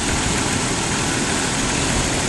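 A car engine idles steadily with the air conditioning set to maximum, a constant dense rumble and fan-like hiss, close and loud, with no talk.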